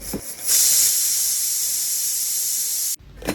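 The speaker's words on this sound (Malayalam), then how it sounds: "കടല വേവാനായിട്ട് ടു ത്രീ വിസിൽ മതി" A pressure cooker cooking soaked chickpeas lets out a loud, steady jet of steam hiss for about two and a half seconds, then cuts off abruptly.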